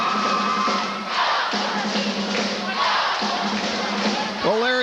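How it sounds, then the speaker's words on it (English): Crowd at a 1989 high school basketball game, North Muskegon at Montague, cheering and roaring loudly and continuously, with shouts and whistle-like tones rising over the din and a few thuds. "Well, Larry, if the crowd is any indication tonight, the Wildcats seem a little fired up."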